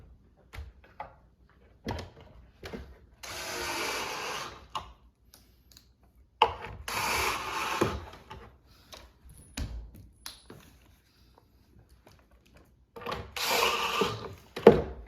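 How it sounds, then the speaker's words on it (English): Screws are driven into a wooden farmhouse corner shoe bench with dividers: three separate bursts of whirring and grinding, each a second or two long, with scattered light clicks and knocks in the quiet between them and no talking. "Install your screws. On the other side, same thing."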